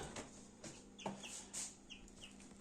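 Newly hatched Faverolles and Brahma chicks in an incubator give scattered, high-pitched peeps, short and quiet, repeated several times over a low background hum.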